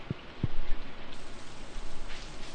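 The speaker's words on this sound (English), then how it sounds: "trees have been begging for this rain." Rain in Stardew Valley makes a continuous hiss of falling drops. Two low thumps come near the start, and the rain stays moderate and constant throughout.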